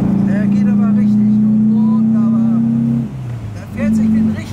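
A 1964 Porsche 356 C Coupé with a 100 PS engine drones steadily as it accelerates, dips briefly, then picks up again, heard from inside under someone speaking.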